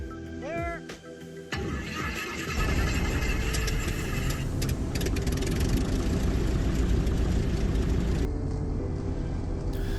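A small airplane engine runs up and roars at steady full power on a home airstrip at takeoff, loud and close throughout, with a brief whine and a few mixed noises before the engine sound swells.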